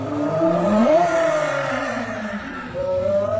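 An AI-generated chase scene with an orange sports car speeding down a street and a police car close behind: a steady, loud engine roar with shifting revving pitch that swells and dips, continuous throughout with no talking.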